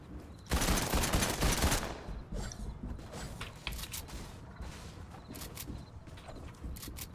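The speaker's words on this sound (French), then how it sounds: "Oh là là, ils mettent des balles." Gunfire in Fortnite: a dense, loud burst of automatic fire, then scattered shots and sharp cracks continuing at a steady pace without voices.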